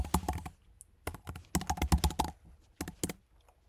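Close computer keyboard typing during code writing: rapid keystrokes arrive in clustered bursts separated by brief pauses, crisp and fairly loud, with no voices.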